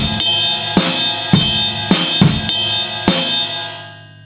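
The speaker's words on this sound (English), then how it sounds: "if I do the bell on quarter notes with the same groove, it's much harder" A hard-hitting drum groove with the cymbal bell struck on quarter notes, where strong kick and snare hits fall under a bright, sustained ringing of the cymbal that fades out at the end.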